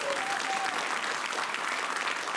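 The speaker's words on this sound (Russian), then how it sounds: "Аплодисменты он угадал." Studio audience of a Russian TV game show bursts into applause, a continuous dense clapping from a large crowd, steady throughout and fairly close, with a brief voice near the start.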